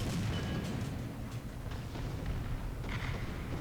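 Artillery shells exploding in War Thunder during a tank battle featuring the M4A5 Ram II medium tank, a dense continuous rumble of low booms with no clear individual blasts, steady and loud throughout.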